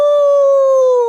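At a mountain campsite, a person gives a long wolf-like howl, a loud, clear sustained cry that glides slightly downward in pitch, imitating a wolf.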